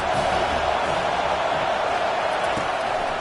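A large football stadium crowd roars steadily behind the home defense on a big third down, a dense, sustained wash of cheering noise with no breaks.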